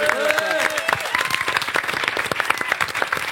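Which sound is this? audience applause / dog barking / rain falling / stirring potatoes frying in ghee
audience applause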